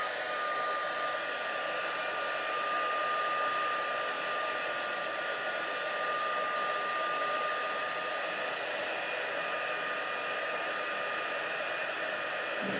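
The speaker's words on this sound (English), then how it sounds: "we're just going to use my heat tool to get that" A heat tool blows hot air to heat set, giving a steady, even whooshing hum with a faint high whine that runs unbroken and close throughout, with no voices.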